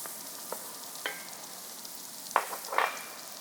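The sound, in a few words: stirring spices into goat wet fry with potatoes in pan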